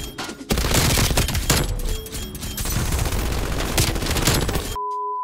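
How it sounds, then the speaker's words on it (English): Rapid, sustained bursts of MG82 light machine gun fire from Black Ops Cold War, loud and close, rattling almost continuously for several seconds before cutting off abruptly. "So the new MG82 LMG was added to Black Ops Cold War"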